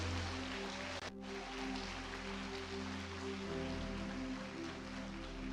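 A church congregation applauds for Jesus, a continuous hissing wash of many hands, faint and distant over a low steady hum.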